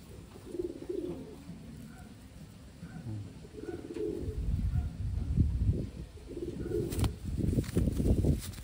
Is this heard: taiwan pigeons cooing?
yes